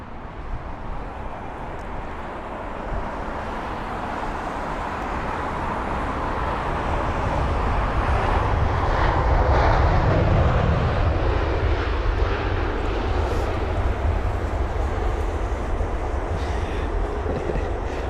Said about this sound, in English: That 787 tried the tiptoeing method, getting the right main gear down first.